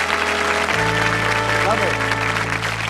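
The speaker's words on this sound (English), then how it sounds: "Give them a round of applause." Studio audience applause for game show contestants on a 1986 British TV game show, a steady clap wash under music that swells in partway through, with no speech.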